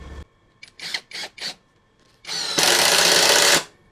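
An APR AP127+ impact wrench set to its lowest speed of 250 RPM, with the trigger feathered. It gives three short close whirring bursts, then one louder sustained run of about a second that stops abruptly.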